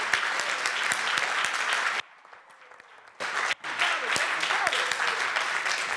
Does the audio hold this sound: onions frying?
no